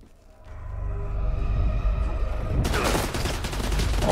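Heavy gunfire in the video game Stalker 2 Heart of Chornobyl starts as a building rumble and then breaks into a dense, loud burst of rapid shots that keeps going to the end. No talking is heard over it.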